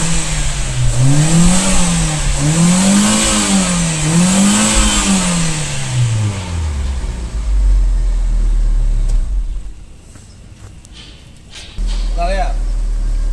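A Fiat Uno Way car engine revs up and down in repeated swells, then drops to a low idle rumble with a brief quieter gap, loud and close.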